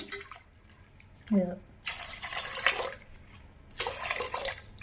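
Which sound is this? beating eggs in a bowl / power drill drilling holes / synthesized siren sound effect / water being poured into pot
water being poured into pot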